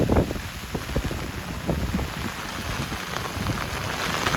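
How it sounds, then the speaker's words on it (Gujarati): Heavy rain pours down outdoors with wind, a dense, loud and constant downpour with gusts buffeting the microphone. "અટાણે વરસાદ છે ફૂલ."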